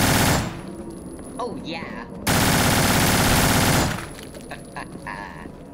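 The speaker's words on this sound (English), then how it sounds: "I will use my mac and cheese gun." A mac and cheese gun in the video game No More Room in Hell fires two loud sustained bursts of rapid gunfire, with a short spoken exclamation in the lull between them.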